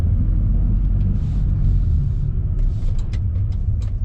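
A BMW E30 drives along snowy winter backroads, its engine giving a steady low rumble with road noise heard from inside the car, continuous throughout with no talk.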